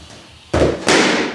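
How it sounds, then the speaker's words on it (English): Gunshot noise test for young puppies, two loud sharp bangs about a third of a second apart, each with a quick decaying tail, close and with no talk. "A gunshot test."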